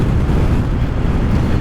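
Strong wind buffets the microphone on a motorcycle trip through Iceland, a loud continuous low rumble with no pauses across the short stretch.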